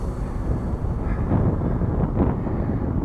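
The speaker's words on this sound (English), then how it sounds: "It's a little bit breezy out today." Breezy outdoor wind buffets the microphone during a bike ride, a constant low rumble and rush that swells slightly midway, with no talking.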